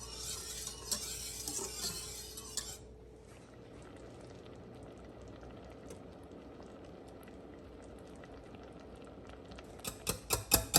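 Chunky tomato and flour barbecue sauce is stirred and scraped along the bottom of a pan over medium heat, giving quiet, steady scraping and soft bubbling, with louder clattering spoon knocks at the start and end.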